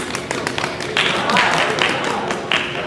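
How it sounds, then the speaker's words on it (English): An audience claps during a Proviso Township High Schools District 209 board of education meeting. Scattered claps come first, then a fuller, steady round of many hands fills the room, with some voices mixed in. "I think we should get a hand clap for that"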